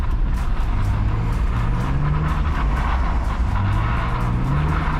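BMW E46 with an M54B22 six-cylinder doing donuts on a thin layer of snow, engine droning loudly and steadily with wavering pitch as it holds revs, heard close from inside the car.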